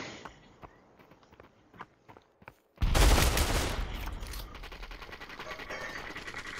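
Gunfire from the VR shooter game Population: One: scattered footsteps and isolated clicks, then a sudden loud burst of rapid automatic fire that rattles on and decays into continuing shots and noise.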